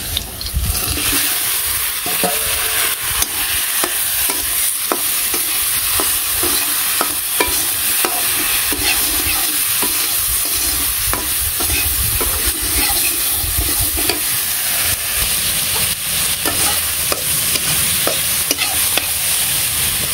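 Spiced eggplant and tomato fry in a pan, sizzling loudly and continuously while a utensil scrapes and stirs through them in frequent close strokes, with no voices.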